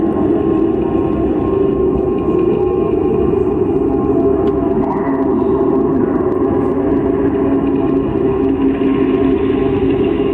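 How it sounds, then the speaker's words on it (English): Train rolling through an abandoned train station, a loud, steady rumbling roar with a whining hum that holds without a break from start to finish. "That's the train."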